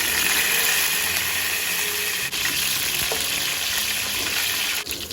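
Tempering seeds crackling and sizzling in hot oil for egg curry, a steady bright hiss with a couple of light clicks from the pan.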